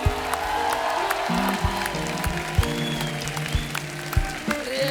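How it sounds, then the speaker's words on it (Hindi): An audience on a TV comedy show claps at a moderate level for a few seconds, with scattered sharp individual claps over a softer wash of applause. "क्या बात है, जोरदार तालियां हो जाए।"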